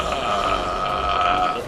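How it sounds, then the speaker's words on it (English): One long, loud, deep burp from a man in a public building, held steadily for under two seconds at close range, with nothing else heard. "I'm burping a lot."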